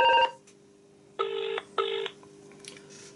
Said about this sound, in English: So now, when that number rings again,